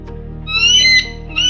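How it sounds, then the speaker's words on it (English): An eagle gives a loud, shrill, drawn-out call that rises and then falls, with a softer trailing cry near the end. "E is for eagle."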